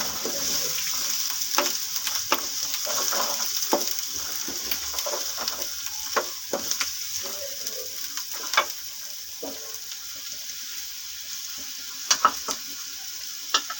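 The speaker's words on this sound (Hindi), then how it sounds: "ये आलू डाल देंगे इसमें, मसाला भी भूनता रहेगा और हमारे आलू भी इसमें पकते रहेंगे।" Potatoes and masala sizzle in a pan, a steady close hiss of frying with scattered clicks and scrapes as the mix is stirred, no voices.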